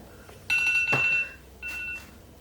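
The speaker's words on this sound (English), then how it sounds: "Timer, we did good." A kitchen-style timer going off with two bursts of bright electronic beeping separated by a short gap, a sharp knock between them and low background hiss.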